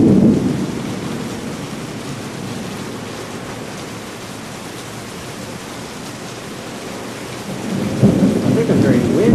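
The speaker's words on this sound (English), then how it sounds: "Rain is dying off. The storm is moving on now." Steady, heavy rain hisses throughout a night thunderstorm in Florida from Hurricane Earl, while deep rolls of thunder rumble at the start and again near the end.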